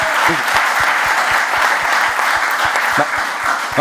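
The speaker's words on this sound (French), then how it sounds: "applaudissons notre ami" Studio audience applause on a French TV show, loud continuous clapping from a crowd with a steady pulse of rhythmic beats running beneath it.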